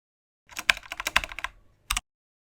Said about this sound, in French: tapant inlassablement sur les touches d'un clavier invisible